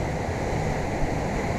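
Ocean surf on the Jersey shore, heard from a front porch, rolls as a steady, broadband wash with no distinct breaks, loud and constant with some wind noise mixed in.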